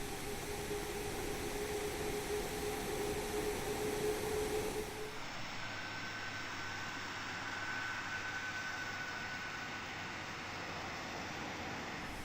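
An IXEG 737-300 jet taxis to the runway in the X-Plane 11 flight simulator, with a steady jet engine whine and hiss throughout. The tone shifts slightly partway through, and no one speaks.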